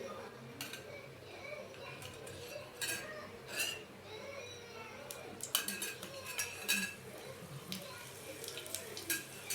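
A spoon clinks and scrapes in a pan while stirring an eggplant fry mixture, irregular close metallic taps and scrapes over a low background, with someone talking softly.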